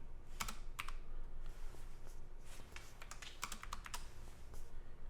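Someone types on a computer keyboard while entering code: quick irregular clusters of light key clicks close by over a faint steady hum, with no voices.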